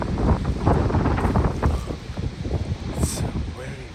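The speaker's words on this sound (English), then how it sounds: "It's very, very, very windy." Strong, swirling wind gusts buffet the microphone outdoors in a state forest, producing rough, uneven low roaring bursts, loud and close, with a person's voice faintly mixed in.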